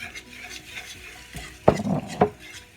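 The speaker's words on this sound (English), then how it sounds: "So we're putting our milk in a little bit at a time to kind of work it into that flour." Milk is stirred bit by bit into flour for sausage gravy, a low simmering sizzle with a few sharp scrapes and clinks of a utensil against the pan.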